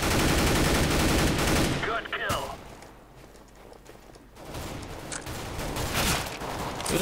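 Rapid gunfire in a Counter-Strike match, dense bursts crowding the first two seconds, a lull, then more shots resuming, loud and close, with a voice talking over it.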